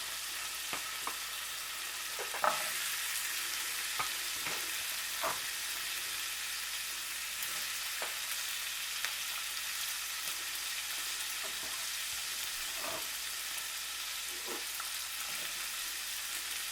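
Asparagus frying in a pan alongside sirloin steaks, giving a steady broadband sizzle with faint crackles and occasional soft stirring clicks throughout, no talking.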